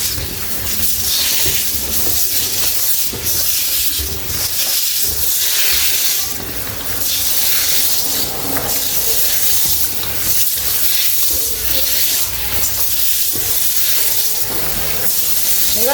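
Tap water runs steadily to rinse kaffir limes, a loud, continuous broadband hiss and splash with no pauses.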